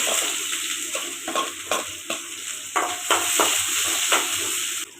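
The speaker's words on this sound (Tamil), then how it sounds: "வெங்காயம் நல்லா வதங்கட்டும்" Onions sizzle and crackle steadily in a hot pan while cooking rava kichadi, with occasional stirring scrapes breaking through the continuous frying hiss.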